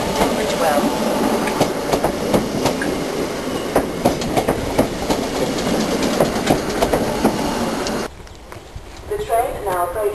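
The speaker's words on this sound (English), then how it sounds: "The train now approaching. Platform 1 is the 1509 Southeastern service to Tunbridge Wells." A Southeastern Class 508 train rolls into a station platform with rhythmic clacking of wheels over rail joints, loud and close, then the rumble drops away as it slows and stops.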